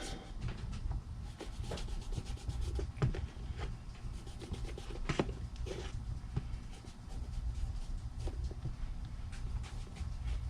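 Bare fingers rubbing wax into a leather boot, a close, quiet and continuous rubbing and patting with soft scuffs and occasional light taps throughout.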